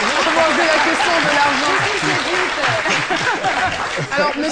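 Audience applause on a French television talk show fills the studio, a dense, steady wash of clapping that holds throughout while voices talk over it.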